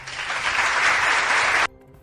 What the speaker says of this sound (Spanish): Oye, déjame darte el aplauso.